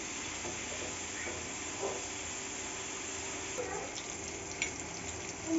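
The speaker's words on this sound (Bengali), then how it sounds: "তো পটলটা হালকা লাল লাল করে ভেজে নিতে হবে" Pointed gourd fries in a pan, a steady hiss of sizzling oil with a few faint clinks and small bumps over the top, no voices.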